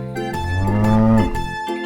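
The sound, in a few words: cow mooing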